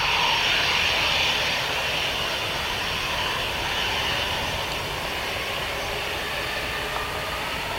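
An EasyJet jet airliner on runway 25 at Luton Airport makes a steady, broad roar that fills the whole stretch, loud and fairly close, easing slightly toward the end with no voices.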